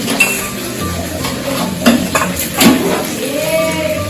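A spoon stirring a shrimp and okra curry in a pan on a gas stove, with soft scraping and occasional metallic clinks over a low sizzle, close and fairly loud.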